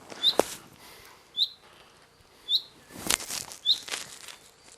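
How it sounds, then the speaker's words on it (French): Short bird chirps repeat about once a second at a steady pace, fairly close, over quiet background noise with a few soft rustles. "ils sont relous ces oiseaux là"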